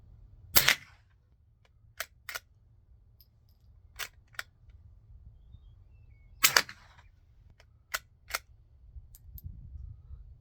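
Sharp, cracking shots from a Sears J.C. Higgins Model 43DL .22 rifle firing .22 long rifle rounds, spaced singly and in quick pairs with quiet gaps between, crisp and close.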